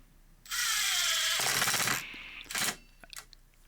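A power driver whirs loudly for about a second and a half, driving a screw into a wooden gong stand, then bogs and stops, followed by a short second burst and a few faint clicks.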